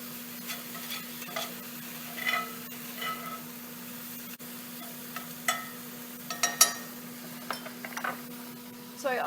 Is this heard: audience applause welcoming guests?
no